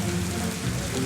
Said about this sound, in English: Looks like there's a bit more rain out there, doesn't it?